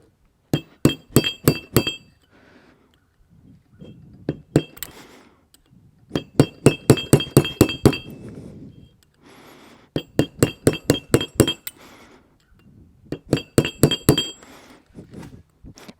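Sharp metallic tapping in quick bursts of several blows as a bushing is deformed during a GM 4L80E transmission rebuild, close and ringing with short pauses between groups.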